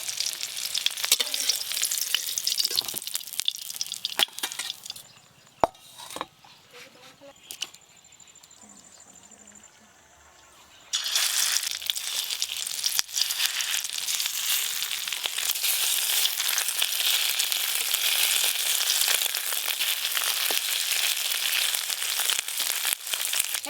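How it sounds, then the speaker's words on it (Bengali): Egg-battered cauliflower frying in oil in a pan, a loud close crackling sizzle that drops to near quiet for a few seconds mid-way, then returns strongly and continues to the end. "ডিম ফুলকপি ভাজি একবার হয়ে গেল, আর একবার ভাজতে হবে"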